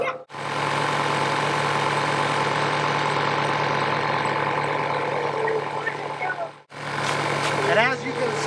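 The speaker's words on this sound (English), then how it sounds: "Alright, we just reached 40 on my Viair compressor." Viair portable air compressor inflating a tire, a steady close mechanical drone and rattle running almost the whole time, briefly cut off twice, with a voice speaking over part of it.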